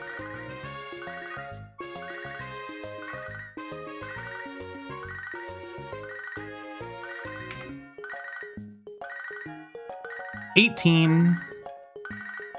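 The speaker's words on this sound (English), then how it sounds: "We all get to listen to the cool phone ringing while I do this." Pokemon HeartGold's electronic phone ring plays as a repeating bright chiptune jingle for most of the stretch, then ends, followed by a short burst of someone talking.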